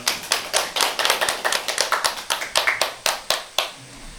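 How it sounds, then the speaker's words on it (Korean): A small audience at a lecture concert claps to welcome the speaker, a sparse run of distinct, sharp hand claps, a few people slapping at an uneven rhythm before the sound trails off. "박수 좀 받아주세요."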